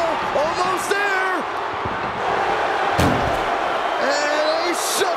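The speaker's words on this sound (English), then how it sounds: "And they shut the door and have won this ambulance match." An ambulance door slams shut during a wrestling match in the video game WWE 2K24, producing a sharp thud midway through under game crowd noise and commentary.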